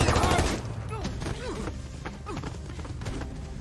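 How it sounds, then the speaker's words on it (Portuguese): A rapid volley of gunshots from a scene in The Last of Us season one, loud at first and then scattered, with shouting voices mixed in. "mas ao olhar para o lado, o Joel percebe que os tiros pegaram na sua filha"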